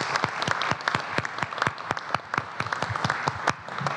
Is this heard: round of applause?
yes